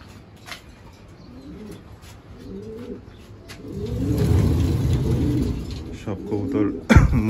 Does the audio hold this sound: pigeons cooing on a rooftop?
yes